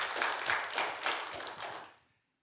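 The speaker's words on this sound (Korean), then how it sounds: "하나님께 영광의 박수 올려드리겠습니다." A church congregation applauds during a Korean worship service, with dense clapping at a steady moderate level that fades out over the last half second.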